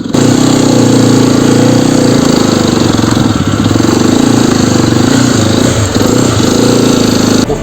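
Loud, continuous low rumble of a motorcycle engine running close by, steady throughout with slight fluctuations, no talking.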